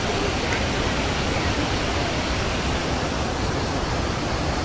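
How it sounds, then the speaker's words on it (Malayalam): Shivasamudra waterfall roars in a dense, unbroken rush of falling water, loud and constant throughout with no pauses. "പ്രകൃതി നിർമ്മിച്ച ഈ മനോഹര ദൃശ്യം, ഈ മനോഹരമായ വാട്ടർഫാൾസ്"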